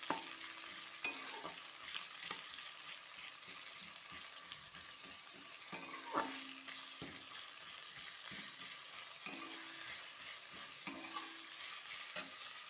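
Onions stirred in a hot pan as they fry to a deep red for katla kalia, soft steady sizzling broken by scattered scraping stirs and utensil clinks, close and moderately quiet, no voices.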